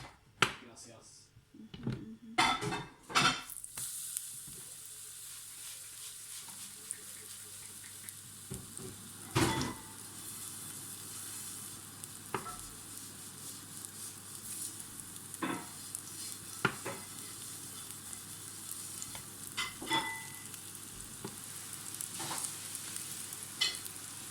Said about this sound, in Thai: แม่กำลังทอดเห็ด